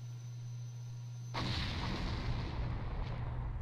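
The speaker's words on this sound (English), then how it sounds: "Who doesn't enjoy looking at a nice explosion?" A loud explosion in the Resident Evil HD video game bursts suddenly after a quiet hum, then a sustained roaring boom fills the rest of the moment, close and powerful.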